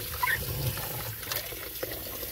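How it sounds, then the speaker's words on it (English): Carrots being washed in warm water, probably in a bucket, with continuous splashing and swishing that stays moderately loud and close throughout. "I do wash them with a little warm water"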